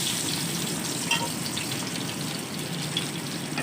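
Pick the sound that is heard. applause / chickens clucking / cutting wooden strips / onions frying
onions frying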